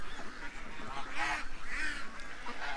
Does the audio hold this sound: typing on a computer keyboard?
no